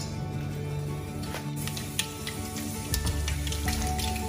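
South Indian cooking sizzles and crackles in a hot pan, with sharp irregular pops like small firecrackers over a steady hiss and a low background hum, close by.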